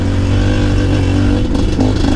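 A KTM MXF 250 TS motorcycle engine runs on a trail at light throttle, a loud, close, steady rumble with small surges and mechanical clatter.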